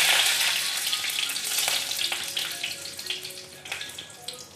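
Urad dal frying in oil in a pan for cabbage thoran, a close, steady sizzle with crackling pops that eases slightly toward the end.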